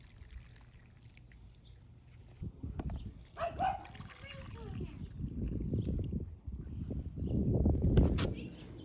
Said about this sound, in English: last thing we need to do is water these guys